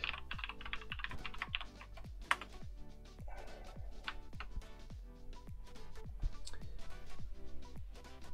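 Steady typing on a computer keyboard at a desktop, a regular run of close, crisp key clicks lasting several seconds with no talking.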